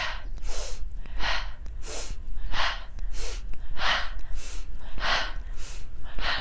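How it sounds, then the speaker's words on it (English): Deep, forceful breathing during a seated kundalini spinal twist, rapid alternating inhales and exhales in a steady rhythm of about two breaths per second, close and loud with no talking. "So inhale and exhale."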